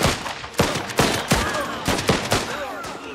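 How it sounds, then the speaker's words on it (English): Rapid machine gun fire crackles in a video game battle between Czechoslovak Legionnaires and Bolshevik forces, with repeated loud bursts and sharp shots over continuous rumbling combat noise. "Machine gun."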